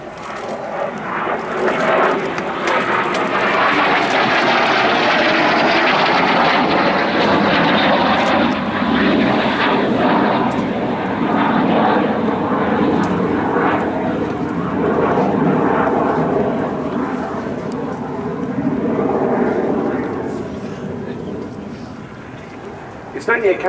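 A loud L-39C Albatros jet trainer engine roars steadily throughout at an air show, rising and holding near the listener before easing off toward the end; a voice talks faintly underneath.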